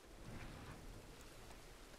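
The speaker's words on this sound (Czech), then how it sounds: "bouřka odešla, už jenom prší" Steady rain in Red Dead Redemption 2 after a thunderstorm has passed, a continuous dense wash of falling drops with low rumbling body, even and unbroken throughout with no voices.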